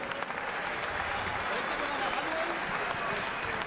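Arena crowd applauds at a European light middleweight boxing title fight after Matthew Hall's loss, a steady wash of clapping and cheering under a ringside announcer's voice.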